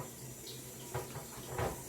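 A vegetable is washed under a running kitchen tap for coleslaw: a quiet, steady stream of water with a couple of brief, louder splashes as it is moved under the flow, no talking.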